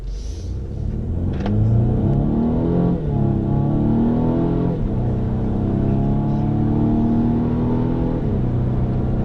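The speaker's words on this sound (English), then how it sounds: "It's that exhaust noise. That's beautiful." A loud Mercedes C300 Coupe exhaust revs and climbs through gears, a throaty rumble rising in pitch several times, close and continuous with no voices.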